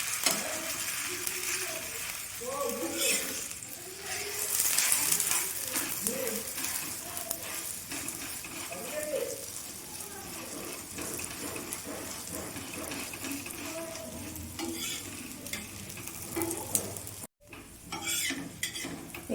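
Egg and vegetable paratha frying in oil in a pan, a continuous close sizzle with frequent spatula scrapes and clinks against the pan throughout.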